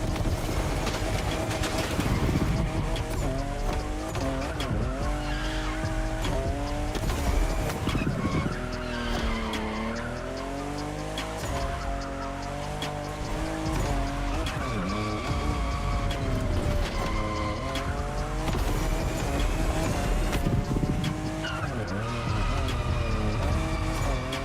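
A fifth-generation Toyota Supra driven in the racing game The Crew Motorfest: a loud, continuous engine roar rising and falling through gear changes, with tyre skids layered over a steady backdrop.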